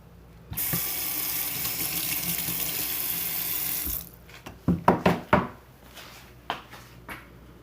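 Water from a tap runs steadily for a few seconds while hair color is washed out, then cuts off, followed by several close clattering knocks and handling sounds.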